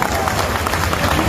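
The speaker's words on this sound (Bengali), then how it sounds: "তোমাদেরকে এবং তোমাদের বাবা মার জন্য একটা জোরে করতালি হবে এখানে" A crowd claps loudly and steadily for about 200 students who earned A-plus results and their parents, a dense, continuous wash of applause filling the whole moment.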